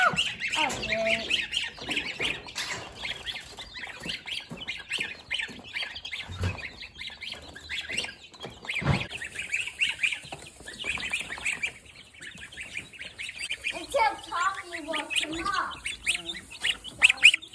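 Chickens and ducks squawk and quack in a noisy, continuous chorus at close range, with brief human voices mixed in.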